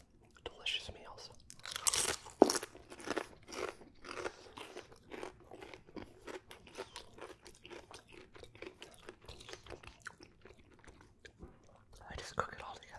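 Crunching and chewing of cheesy chicken sheet pan nachos with tortilla chips, close and crisp, a run of loud crunchy bites early on followed by steady softer chewing, with quiet whispering beneath.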